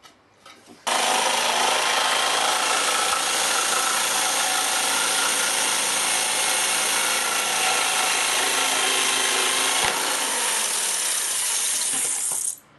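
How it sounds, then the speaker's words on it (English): A jigsaw cuts a circle from a wooden panel for a home-made resonator guitar, giving a loud, steady, rasping saw buzz that runs without a break for about twelve seconds before it stops. "now you need to cut that out with the jigsaw"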